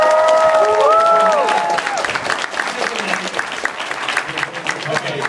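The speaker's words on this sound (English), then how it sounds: "so can we give him a round of applause?" A convention audience breaks into a loud round of applause with some cheering, the dense clapping sustained across the whole stretch and fading slightly toward the end, with a few voices calling out.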